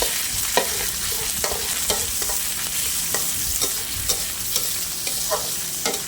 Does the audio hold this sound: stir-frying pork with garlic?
yes